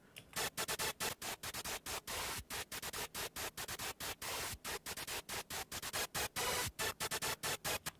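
Harsh distorted noise from a synth patch in Ableton Live, chopped into rapid rhythmic bursts with short silent gaps between them, loud and gritty with no voices.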